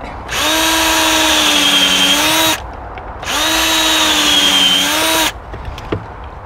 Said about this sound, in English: What I use to make the holes is a cone drill bit